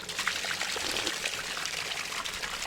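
Naturally carbonated spring water in Armenia flows and splashes in a continuous bubbly, fizzing stream, close and steady throughout with no voices.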